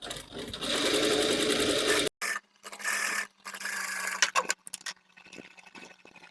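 A sewing machine stitches fabric for palazzo pants in fast, whirring bursts, with a long run first and then shorter starts and stops, close up and without talk.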